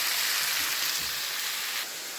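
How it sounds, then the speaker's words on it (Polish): Mushrooms and onion sizzle in a frying pan, a steady close hiss and crackle throughout. "pieczarki, cebulka, jak widzicie, fajnie się smażą, fajnie skwierczą na patelni"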